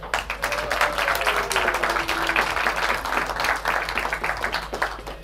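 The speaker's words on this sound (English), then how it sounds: "could I ask for your warm round of applause, please, ladies and gentlemen, for our tournament director, Gino De Lauter" Spectators at a pool tournament final give the tournament director a round of applause. Brisk, crackling clapping continues steadily in a hall with a low background hum, and a brief tonal sound rises above it.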